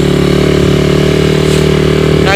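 A Suzuki Satria motorcycle engine running hard on a steep climb, a loud, close, steady buzzing drone with a slight rise at the very end.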